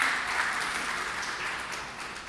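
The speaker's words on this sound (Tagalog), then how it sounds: "Sa ngayong malakas na palakpak muli para sa ating Panginoon." Church congregation at a worship celebration clapping loudly together, a dense steady wash of applause that fades slightly over its short length.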